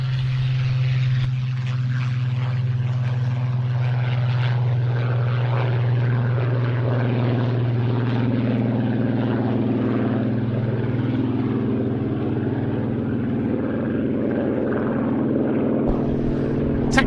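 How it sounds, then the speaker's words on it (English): A Supermarine Spitfire 14E in Royal Indian Air Force colours rolls during an air display, its propeller engine droning loud and steady throughout with a deep, constant growl. "Rolling now, our first chance to see it in a display in its Royal Indian Air Force colours, the Supermarine Spitfire"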